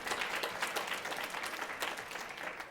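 Audience applause at a women's business conference: a steady, dense wash of many hands clapping, sustained evenly for the whole stretch with no talk over it.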